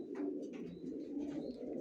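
Johnson-line long-distance racing pigeons coo steadily in a loft, a continuous low, murmuring chorus of overlapping coos with a few faint higher chirps on top, close and unbroken throughout.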